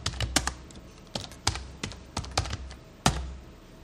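Java code is typed on a computer keyboard in short bursts. Close, crisp key clicks arrive in uneven clusters, ending with one firm strike near the end, with no talking.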